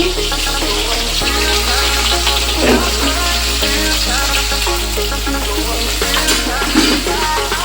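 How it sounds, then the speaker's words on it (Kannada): Garlic, ginger and green chili fry in hot oil after cumin seeds in a pan, giving a loud, continuous, dense sizzle with some clattering stirring, heard close and with no talk. "ಇವಾಗ ಫ್ರೈ ಮಾಡ್ಕೊಳ್ಳೋಣ"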